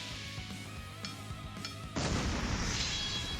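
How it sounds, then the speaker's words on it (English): A Crash Bomb attack detonating in the Trails to Azure role-playing game: a few light clicks and taps lead into a sudden loud blast whose roaring rumble sustains to the end. "Crash bomb."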